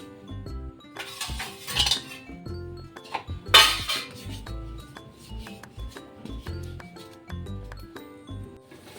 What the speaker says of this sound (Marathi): तर आपण रवा हा चांगला खमंग भाजून घेऊया. मीडियम गॅसवरच भाजायचा आहे.